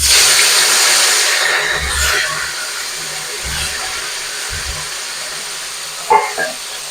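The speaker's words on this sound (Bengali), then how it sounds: "এবার আমি একই তেলের মধ্যে ফুলকপিগুলোকেও ভেজে নেবো।" Drained cauliflower florets frying in hot oil in a pan, giving a steady close hiss that fades slightly, with a few soft low thumps and a brief clatter near the end.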